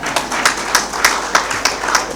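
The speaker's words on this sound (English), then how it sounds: "I think I'll get a round of applause on that one." An audience applauding at an accountants' winter school session at Victoria Falls, a round of clapping with distinct claps in a loose rhythm, close and fairly loud.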